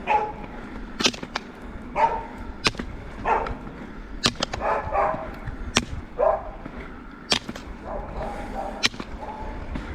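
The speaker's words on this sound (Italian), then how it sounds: "Il rumore dei bastoni spaventa i cani intorno. e loro rumoreggiano." Dogs barking in the countryside along a bike path near Moretta and Cercenasco in Piedmont, Italy, reacting to ski roll poles, which give sharp loud clacks between scattered yips and barks at a moderate distance.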